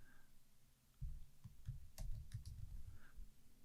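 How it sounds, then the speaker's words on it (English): Computer keyboard shortcut keys, Command C and Command V, being pressed during a Keynote tutorial: soft, muffled clacks and clicks in quick irregular runs, quiet and close, with no talk. "I'm actually just clicking Command C and Command V"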